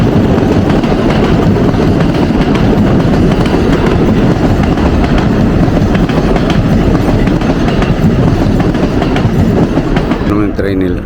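A train passes close by the Gotanda River with a loud, continuous rumble and rhythmic clickety-clack of wheels on rails, fading slightly at the end.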